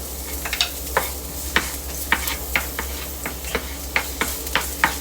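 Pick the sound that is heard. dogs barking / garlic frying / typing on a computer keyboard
garlic frying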